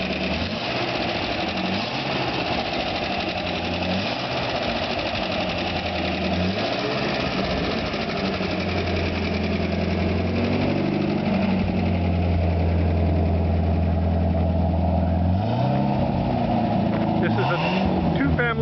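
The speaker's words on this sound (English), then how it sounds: "this is a 1952 Buick Special. We've got her running. She's a straight 8 original car" A 1952 Buick Special with its original straight-eight engine idles steadily and close up, giving a continuous smooth hum. The revs climb briefly near the end.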